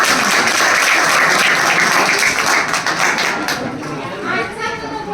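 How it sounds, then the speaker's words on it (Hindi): Schoolchildren clap loudly together at a Teachers' Day event, a crowded burst of applause that fades over a few seconds as voices and chatter come through underneath. "एक बार जोरदार तालियां"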